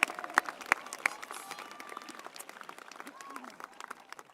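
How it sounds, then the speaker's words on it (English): Applause from a high school graduation audience, scattered claps with a few sharp nearby hand claps at the start, thinning into a softer patter over a few seconds. "One last round of applause for you."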